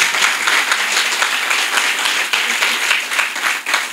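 Loud sustained applause from an audience at a Hindi poetry gathering, many hands clapping in a thick continuous roar that swells and dips slightly across the few seconds, heard alone without speech.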